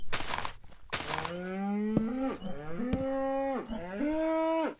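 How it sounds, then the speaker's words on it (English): Several cows in Minecraft moo in close succession, long drawn-out lowing calls overlapping one another, loud and near, with a couple of sharp clicks from the game between them. "Hello, cows."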